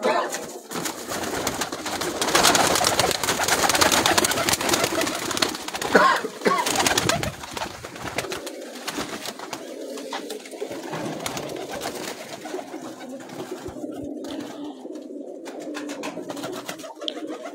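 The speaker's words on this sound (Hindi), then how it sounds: "ये जी इस छत का मेन कबूतर है और इसको लाहौर से भेजा गया है जी फोकी उस्ताद ने।" The main rooftop pigeon, sent from Lahore, coos in low rolling calls, louder and denser at first and then settling into softer, steady cooing with no voices over it.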